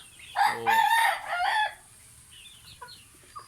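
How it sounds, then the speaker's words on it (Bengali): Three-month-old chickens on a small poultry farm give a loud, close, drawn-out crowing call, followed by a few fainter clucks and scattered soft sounds. "আমার এখানে বেশ কয়েকটা মুরগি রয়েছে।"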